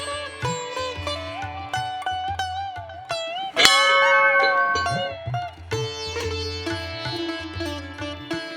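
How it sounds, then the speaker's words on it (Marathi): A bell at the Shri Devi Trimukhi temple in Kolambe, Ratnagiri, rings out in clear metallic strikes with long shimmering tones that overlap. One louder strike stands out midway, with no voices. "घंटा नादाचा आवाज आणि अगरबत्तीचा सुगंध मनाला अगदी प्रसन्न करून टाकतो"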